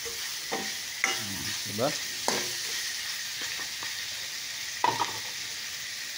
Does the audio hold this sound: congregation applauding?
no